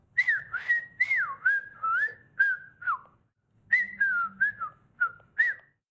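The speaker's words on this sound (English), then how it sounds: "and I like to whistle." A person whistles a bright, wavering melody in short phrases, with a brief pause midway; close and clear, no talking.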